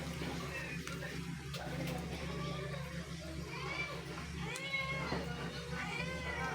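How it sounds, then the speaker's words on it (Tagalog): A cat meows a few times beneath a kitchen table during a home lunch of tuna cooked in coconut milk, the cries moderately close over steady background hum and people talking nearby. "may pusa sa ilalim sa pako"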